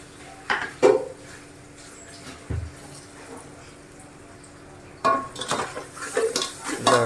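A spoon stirs ginger garlic paste and onions in hot oil in a pan, giving scattered scraping and clinking strokes with faint sizzling, in two bursts separated by a quieter stretch.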